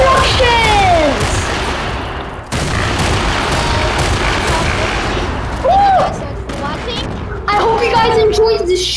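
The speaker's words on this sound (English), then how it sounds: "Explosions and destructions." C4 explosions go off in loud, dense succession, a continuous rumbling barrage with brief sweeping tonal cries riding over the blasts.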